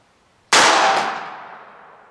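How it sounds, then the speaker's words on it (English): A single .380 ACP Winchester PDX1 round is fired into a ballistic gel block covered with denim at ten feet, a sharp loud report with a ringing metallic tail that fades over about a second and a half. "shooting this into a block of the SIM-TEST media that's recalibrated to ballistic gel specs"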